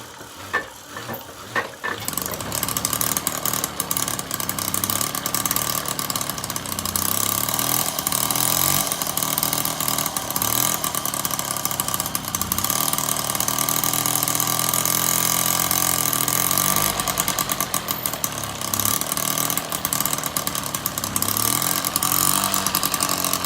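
A Motobecane moped's small two-stroke engine idles steadily and close for a long stretch, a buzzing drone that starts after a brief rough catch at the beginning.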